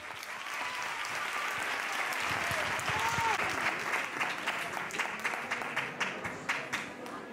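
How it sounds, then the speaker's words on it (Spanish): An audience at a Christmas gala applauds the young performers, warm, dense clapping that swells and then thins into separate, spaced claps toward the end, with some voices underneath. "un fuerte aplauso para mis peques"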